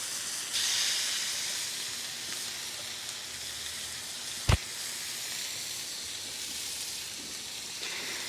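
A burger patty sizzles on a hot griddle, a loud, steady hiss that holds throughout, broken once by a single sharp tap midway.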